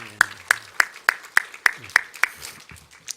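A church congregation at a Sunday morning service claps in a slow, steady unison beat, about ten evenly spaced claps that loosen and fade toward the end, in a quiet hall.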